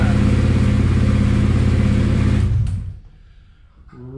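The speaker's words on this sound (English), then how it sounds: "Rubbish sounding exhaust." A car engine revs loudly and steadily through a rough, poor-sounding exhaust, then cuts off abruptly, leaving near silence before a faint sound at the end.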